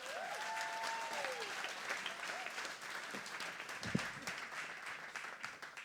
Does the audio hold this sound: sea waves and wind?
no